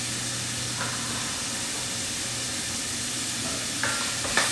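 Ground meat for bolognese sizzles and fries in a pan, a dense constant hiss with a few brief scraping stirs near the end, close and steady with no talking.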